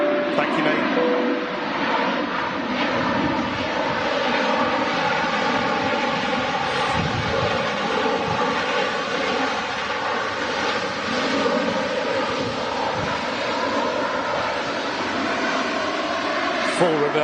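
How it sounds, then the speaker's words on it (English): An airliner landing under full reverse thrust, a broad sustained engine roar holding steady throughout, with a voice talking over it. "Full reverse power, and still taking a while to stop."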